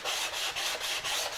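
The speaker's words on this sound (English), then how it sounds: "start sanding this down" A flat straight-edge sander with sandpaper rubbed back and forth along the edge of a wooden logo sign, five or six even rasping strokes in a steady rhythm, close and fairly loud.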